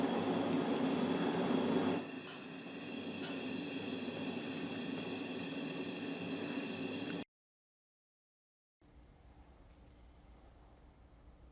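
A motorized stir paddle turns inside a brewing tank on a brew stand, giving a faint, steady mechanical hum and whir that steps down partway through, drops out briefly, then returns quieter.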